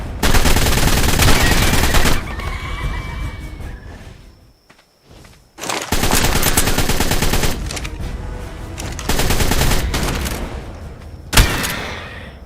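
Loud, close assault rifle fire rips out in long automatic bursts in the video game Ark: Ragnarok, pausing briefly before more sustained bursts, with scattered impacts and footstep-like thuds between them.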